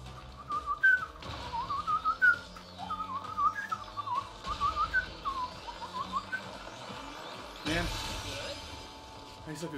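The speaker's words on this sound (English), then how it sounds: "Whistling" A person whistles a wandering melody in short phrases while out running, clear and close against steady outdoor background noise, with a brief loud burst near the end.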